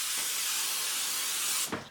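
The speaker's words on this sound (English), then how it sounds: "You can spray it with Pam cooking spray." A continuous hiss of Pam cooking spray misting into a 9x13 baking pan, close and steady, ending with a short clatter as the can stops.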